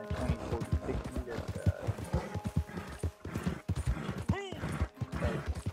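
Horse hooves clip-clop steadily with a whinny in Red Dead Redemption 2 Online, the game's horse close and clear under continuous talk.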